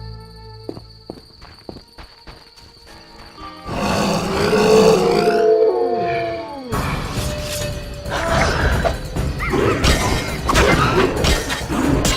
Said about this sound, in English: It's those dogs. Those hellhounds.